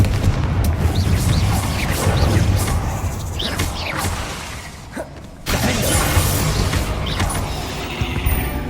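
The Confringo blasting spell in the video game Hogwarts Legacy sounds as loud, dense explosive bursts and shattering debris with a rumbling low end, a brief near-silent break midway, then another blast and crackling.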